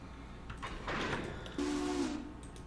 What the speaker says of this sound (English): So, lots of smoke and steam, and the big freight train is departing.